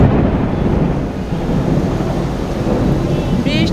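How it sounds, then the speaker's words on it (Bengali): A thunderstorm over a village home: a loud, continuous roar of heavy rain mixed with rolling thunder, close and constant throughout, with no talk. "বিদ্যুৎ চমকাতেছে বৃষ্টি হইতেছে"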